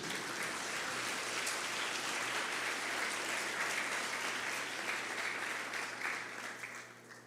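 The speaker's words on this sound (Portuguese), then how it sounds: "Vamos aplaudir o Senhor por isso." A church congregation applauds in praise during a sermon, steady dense clapping filling the room for several seconds before thinning slightly at the end.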